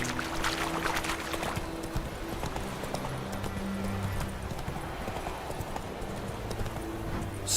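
Hooves of Roach, Geralt's horse in The Witcher 3, clip-clopping steadily over ground, heard throughout at moderate level within a continuous ambient game soundscape.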